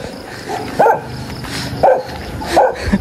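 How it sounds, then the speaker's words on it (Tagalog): Three sharp dog barks ring out about a second apart over a noisy background, with more barking faint in the distance. "Daming aso."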